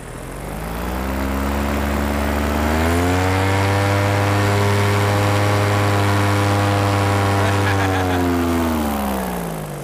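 A motor on a one-off Endless Footdrag tandem build runs smoothly, a loud, steady hum that rises slightly in pitch and holds evenly before easing back down.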